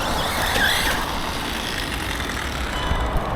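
A Redcat Valk RC truck on Proline wheels and tires drives with a loud, steady motor whine and gritty grinding from rocks and debris caught in the wheels, close and continuous.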